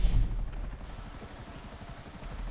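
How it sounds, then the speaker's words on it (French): Helicopter in a video game mini-game, a low, throbbing rotor rumble with steady rapid pulsing, strongest at the start and continuing more quietly. "Bataille d'hélico!"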